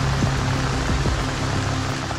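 Heavy rain pattering densely on surfaces outdoors, a steady close hiss with a low rumbling undertone throughout.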